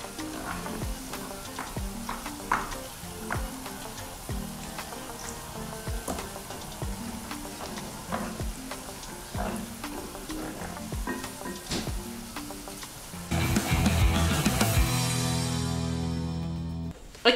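Spring onion and garlic fry in hot oil with a continuous crackling sizzle and rhythmic stirring knocks, then swell into a louder, fuller hiss toward the end.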